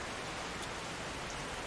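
Steady rain pours down as a dense, even hiss, loud and unbroken throughout, with no voices.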